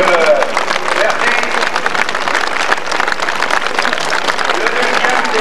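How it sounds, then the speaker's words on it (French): Outdoor crowd applauding the winner of a cycling race, the Souvenir Luis Ocaña in Villeneuve-sur-Lot, in a dense, steady patter of clapping with an announcer's voice faintly over it. "attends que vous l'applaudissiez"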